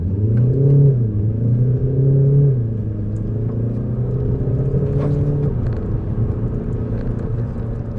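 A stage 1 tuned 2016 Audi A1 Sportback accelerates hard from a standstill toward 60, heard from inside as a loud, steady engine drone that climbs in pitch, drops briefly at gear changes and climbs again, with no talk.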